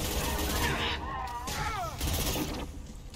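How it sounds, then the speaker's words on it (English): A high-impact gunshot in Mass Effect 2 rings out amid broadband crackling game noise, short and punchy, partly under a voice. "Firing a high impact shot."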